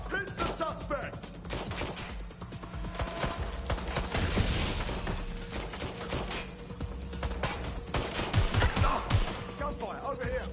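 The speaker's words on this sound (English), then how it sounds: "Gunfire, over here!" A video game firefight crackles with rapid, scattered gunshots and bursts of fire at mid distance, with voices calling out over the shooting.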